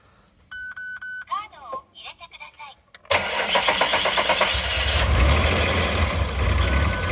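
A Mazda Bongo 2.5 V6 cranks after a few beeps and catches, then runs roughly and loudly with a bad misfire, its uneven firing continuing to the end.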